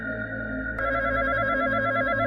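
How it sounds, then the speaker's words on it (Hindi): A telephone ring in a Hindi horror story, said to come from inside a cremation ground: a steady electronic ringing tone that sounds continuously, growing fuller after the first moment, with no speech. "घंटी की आवाज फोन से नहीं, शमशान के अंदर से आ रही है।"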